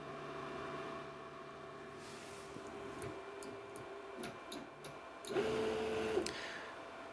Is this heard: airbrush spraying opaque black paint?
no